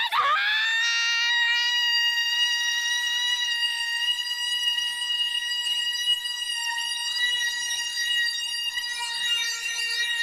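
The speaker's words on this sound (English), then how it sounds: "You destroyed that initial screaming, lowering the tempo at a microscopic level and distortion in the voice." A distorted, drawn-out scream from the Drakengard 3 game soundtrack, a single sustained harmonic wail rising sharply at the start and holding loud and steady for about ten seconds.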